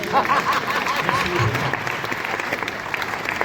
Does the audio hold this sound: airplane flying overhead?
no